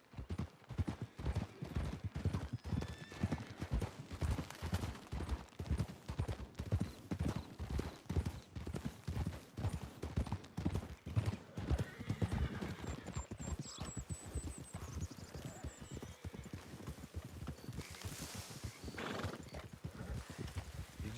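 Horse hooves clip-clop in a steady, rapid rhythm across the whole stretch in Red Dead Redemption 2, fairly close and moderate in level, with brief higher calls that could be a neigh or whinny near the end.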